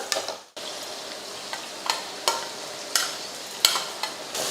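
Tomatoes and eggplant with turmeric sizzle in a pan while a spoon stirs them, giving a soft steady fry broken by regular scraping strokes, nearby and with no talking.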